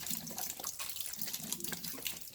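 Apple juice pours over wild pork in a pot for pulled pork, a steady close splashing and gurgling stream running unbroken throughout.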